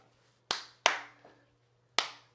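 Sharp, close hand claps in a beginner Halloween dance routine to "Monster Mash": two quick claps, a faint tap, then another clap after a pause, each ringing briefly in a quiet room.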